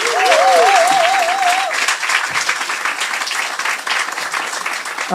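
A large crowd applauds loudly and continuously, with a brief warbling whistle near the start.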